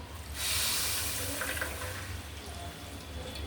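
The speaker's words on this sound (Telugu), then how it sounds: "మనము దాంట్లో కొంచెం షుగర్ వేసి షుగర్ పాకం పట్టుకుందాం. కొంచెం వాటర్ ఇద్దామండి." Water poured from close by into a cooking pot holding sugar for a sugar syrup in a home kitchen, a steady rushing pour that swells early and then runs on evenly.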